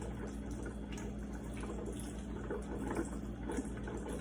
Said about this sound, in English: after you've got your rubber bands off, I would still go ahead and rinse